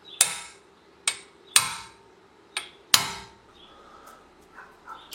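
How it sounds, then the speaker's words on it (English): A hammer knocks against a brake rotor retaining screw to spin it loose: four or five sharp metallic strikes, close and loud, irregularly spaced, with a couple of fainter taps at the end. "we're going to hit the back side of this, and it's going to automatically spin and come off for us"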